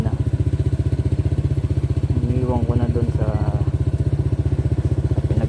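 A Honda PCX160 scooter idles nearby with a steady, even putter, while someone speaks briefly over the engine.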